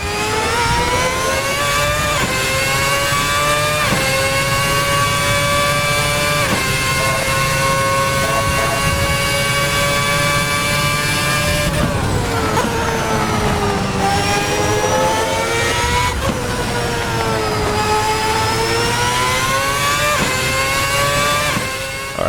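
RSS 2010 V8 race car in a sim racing game, engine screaming at high revs with repeated rising pitch sweeps and sharp gear-change dips, loud and continuous throughout with no talking.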